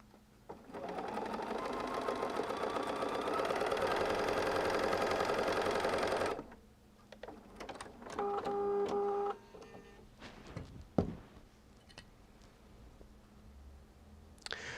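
A sewing machine stitches quilt block pieces in a fast, close, steady run for several seconds, stops, then gives a second short burst, with fabric handling, clicks and small thumps in the quiet between.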